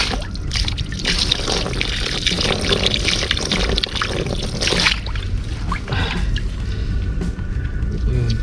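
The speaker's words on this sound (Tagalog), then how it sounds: "Ako po, bawasan natin ng tubig." Water poured out of a container to lower its level, heard as a steady, loud, close splashing and gushing stream that runs throughout, briefly easing midway before continuing.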